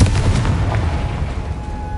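A Confringo fire spell explodes in Hogwarts Legacy, a loud, dense burst of booming, crackling blast that holds steady over two seconds with no fading tail, alone without speech.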